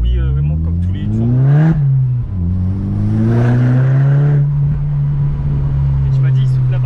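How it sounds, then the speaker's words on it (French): A Polo WRC rally car's turbocharged engine accelerating hard, its loud, close whine and roar climbing in pitch, dipping briefly near two seconds, then rising again and holding a steady high drone. "Non, ça c'est le turbo"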